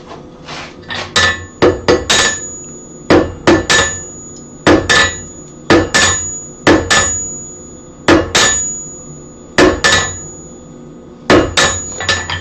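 Hot steel being forge-welded on an anvil: loud, ringing hammer blows land in quick bursts of two or three, separated by short pauses, with no talking.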